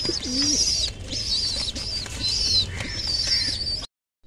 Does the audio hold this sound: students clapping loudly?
no